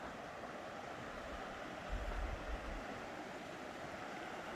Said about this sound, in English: Creek's right behind the tent here.